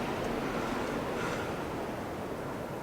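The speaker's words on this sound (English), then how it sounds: "It's supposed to be pretty windy." Strong winter wind of about 60 km/h roars steadily around a hot tent with a wood stove, a dense continuous rushing with gusts and no voices.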